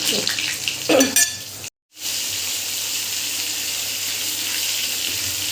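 Potatoes frying and sizzling in a pan as whole spices such as black cumin, cumin, fennel and garam masala go in, with a steady broadband hiss, a few stirring scrapes early on, and a brief dropout partway through.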